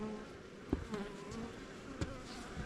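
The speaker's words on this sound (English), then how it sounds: "I don't know what these bees are doing here, or if they're nurse bees" Honeybees buzzing around a five-frame cell-builder hive used for spring queen rearing, a steady close drone with a few sharp knocks, fairly quiet and without talk.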